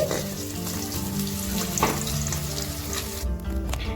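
Paneer frying in hot oil until browned, a dense close sizzle with stirring scrapes throughout, continuous and fairly loud, no voices.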